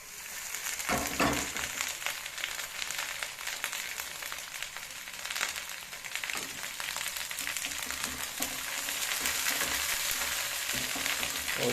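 Onions with garlic-ginger paste fry in a pan for a fish curry, a steady loud sizzle with occasional stirring scrapes and bursts throughout, no talking.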